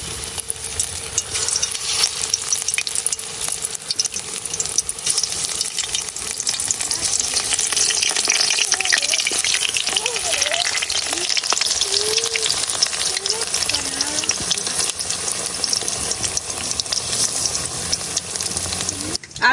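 Hot oil sizzles steadily as stuffed pointed gourd (kakrol) fries in a village kitchen, a loud, continuous crackle that fills the whole stretch, with brief faint voice and stirring sounds underneath.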